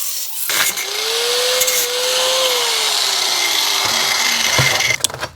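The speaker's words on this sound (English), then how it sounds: "I'm going to use a cutoff wheel." A cutoff wheel grinds through a steering shaft during a Jeep CJ power steering conversion, a steady close abrasive whine with a rising and falling pitch lasting about four seconds.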